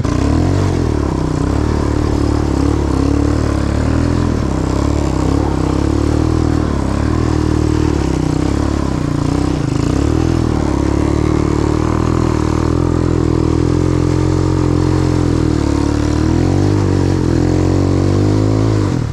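A Chinese 250cc quad ATV idling in the snow, a loud continuous rough engine rumble close by, steady throughout with slight wavering.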